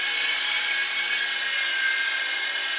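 A small RC helicopter flies close by with a steady, loud, high-pitched whine that holds constant throughout without pause.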